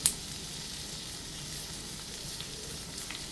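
Half a chopped onion sautéing in a pan for a Kerala cheera coconut milk curry, a steady close sizzle of frying with a brief clink at the very start.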